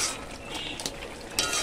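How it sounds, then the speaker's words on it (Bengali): A spoon stirs and mashes tomatoes and eggs in a pan for a tomato-egg bhujia, making soft, close scraping with a couple of light clinks against the metal. "এভাবে একটু ভালো করে ঘেটে নিতে হবে"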